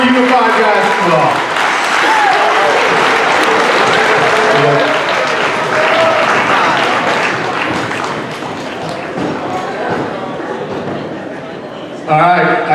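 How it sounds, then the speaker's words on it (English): A high school assembly crowd claps loudly for the Unified Basketball team, with cheering voices mixed in. The applause thins and fades over several seconds before a short burst of sound near the end. "Big round of applause for Unified Basketball."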